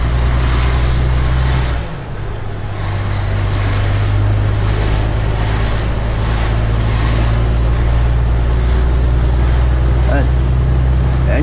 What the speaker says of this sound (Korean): 엔진 소리가 좋으면은 정말 기분 좋거든요.